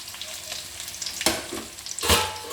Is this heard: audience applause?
no